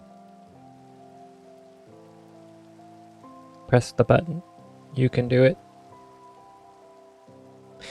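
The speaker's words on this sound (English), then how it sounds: "It's raining." Rain falls in the Minecraft video game, a quiet backdrop under soft, sustained tonal music, with a person speaking briefly over it.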